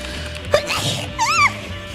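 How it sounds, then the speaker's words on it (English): A single sneeze bursts out sharply about halfway through, followed by a brief voiced exclamation, with a streamer's allergies acting up during a live chat stream. "Oh, I need to sneeze."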